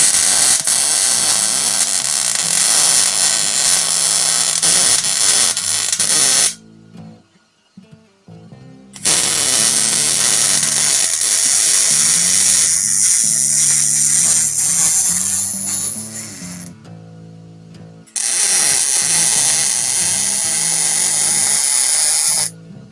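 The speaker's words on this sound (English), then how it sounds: "let's get the bench cleared off and get that welded" MIG welding on a hot rod's exhaust crackles and hisses in three long, steady, close-up runs, with short quiet gaps between the passes.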